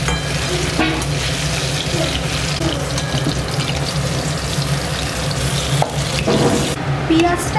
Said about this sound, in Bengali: পেঁয়াজটা এখন বাদামি বাদামি কালারের দেখুন হয়ে গেছে ভাজা